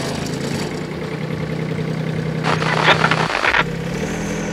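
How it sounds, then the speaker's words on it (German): A vehicle engine idles at a steady low hum while it reverses, with a brief louder rushing swell near the middle before it settles back. "fahren wir rückwärts"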